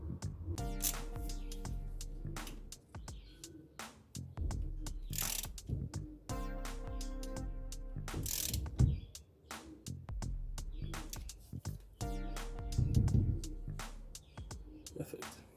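A ratchet fitted with a 17 mm socket turns a bolt during a disc brake conversion, giving repeated bursts of rapid clicking close by, with metallic taps between strokes.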